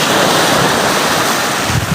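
Ocean waves wash continuously onto a sandy, rocky beach, a loud steady surf roar with wind buffeting the microphone.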